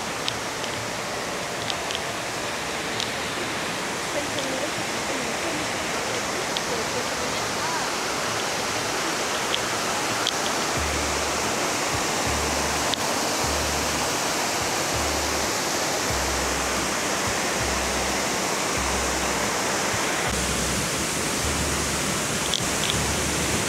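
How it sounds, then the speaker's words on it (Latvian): A waterfall close by on a hike, pouring in a loud, steady broadband roar that fills the whole stretch with no break, with faint low thumps underneath. "Šeit var ļoti tuvu pieiet ūdenskritumam."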